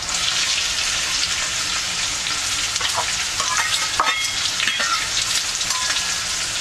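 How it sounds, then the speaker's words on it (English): Onions and zucchini sauté in hot oil in a pan, giving a steady, close sizzle throughout with a few brief clinks and scrapes of stirring. "And saute this until the onions start turning translucent."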